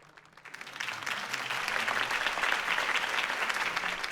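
Crowd applause fills a scene from the video game Batman: The Telltale Series, following Harvey Dent's campaign speech. It swells in after a quiet start into steady, dense clapping that holds throughout.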